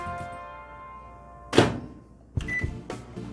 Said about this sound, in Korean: 전자레인지에다가 만두 돌릴 수 있는 시간 똑같이 넣어서 돌려주세요